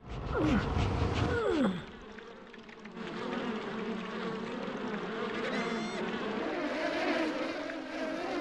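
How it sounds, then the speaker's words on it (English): Bees buzz around a hive in the video game Piglet's Big Game, a steady droning hum after a few brief sliding tones at the start, playing on its own without talk. "If Piglet were to cover the hole and conceal the hive, perhaps the bees would come looking for it"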